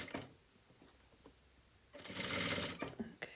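An industrial sewing machine stitches a hem along a fabric edge held against a stitch guide, giving a loud, steady whirring burst of about a second after a quiet stretch, then a few short clicks.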